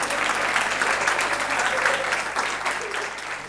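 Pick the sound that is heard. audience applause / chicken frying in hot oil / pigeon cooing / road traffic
audience applause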